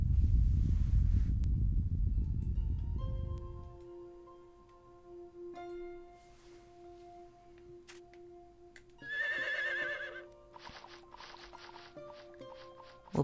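In the Harvest Moon video game, a horse's whinny sounds partway through, a short trilling neigh that stands out from quiet, tinkling game music with a few ticking effects, after a rumbling opening.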